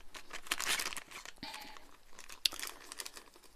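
A plastic packaging bag from a parcel crinkles and rustles up close as metal rings for dog collars are pulled out, with bursts of crumpling, a sharp snap midway and lighter crackles trailing off, no voices.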